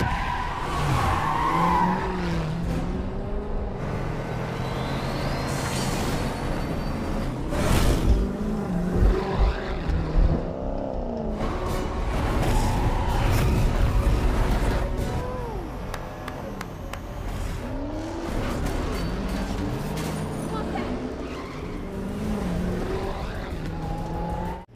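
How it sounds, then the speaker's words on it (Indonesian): Cars race and skid through city streets onto a main road in a Korean gangster film chase, with sustained engine roar, repeated tire squeals and a loud crash-like burst near the middle, set against a dense film soundtrack. "kejar-kejaran berlangsung seru hingga ke jalan raya"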